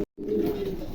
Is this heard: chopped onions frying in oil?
no